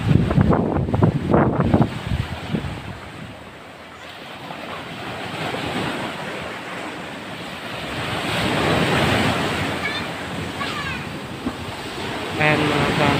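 Large ocean waves crash close to a seaside house, broad surf roaring continuously with swelling surges and gusty wind noise on the microphone, while someone talks over it at the start.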